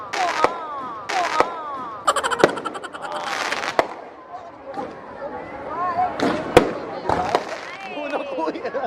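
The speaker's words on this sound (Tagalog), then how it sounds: "Fireworks na mega fireworks." Fireworks at the Sinulog 2017 festival procession crack and pop in sharp, irregular bursts, some loud and close, with crowd voices and people talking throughout.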